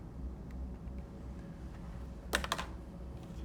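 A couple of quick button presses on a calculator while working a chemistry gram-to-mole conversion, heard as two or three sharp close clicks in a tight cluster over a quiet, faintly humming room.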